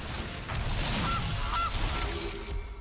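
A goose honks from the Magic: The Gathering Arena game, two or three short nasal honks over a loud, busy game backdrop with no voices.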